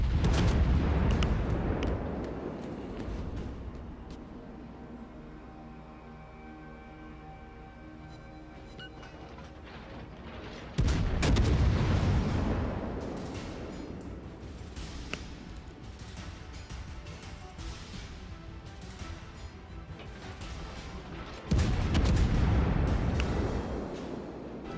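Naval ship guns firing in the World of Warships video game: three heavy booming salvos roughly eleven seconds apart, each a loud blast followed by a long rumbling decay over a steady background drone.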